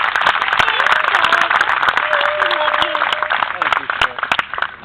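An audience at a Waikiki Aquarium lecture gives a round of applause, steady dense clapping throughout, with a voice speaking over it.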